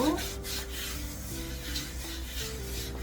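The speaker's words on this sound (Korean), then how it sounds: "도마를 키친타올에 이렇게 한번 닦아주세요." Cutting board rubbed with kitchen paper towel, a close, continuous dry rubbing and swishing of paper over the board's surface.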